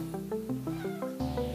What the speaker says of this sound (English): Oh, there's my cat.